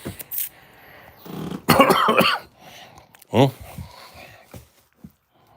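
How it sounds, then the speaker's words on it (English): Harsh, chesty coughs burst out close by, one long fit and then another, with talking and throat noises around them. "It's all the coughing, all the phlegm"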